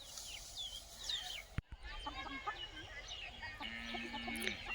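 Chickens feed outdoors at sunset, with scattered soft clucks and chirpy calls against a quiet rural background. One brief sharp knock sounds partway through.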